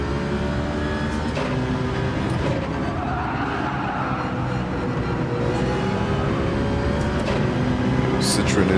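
Citroen race car engine in Gran Turismo 7 at Trial Mountain, a loud steady drone with shifting pitch running throughout, heard under a talking voice.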